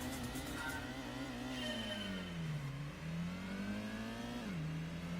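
A Mazda MX-5 Roadster engine in Gran Turismo on the Grand Valley East track, a steady mid-pitched drone that rises and falls in pitch as the car accelerates and shifts, continuous throughout with no talk.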